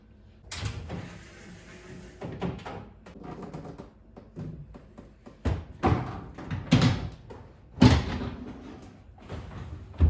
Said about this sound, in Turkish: Şimdi çekmeceleri yerleştireceğim.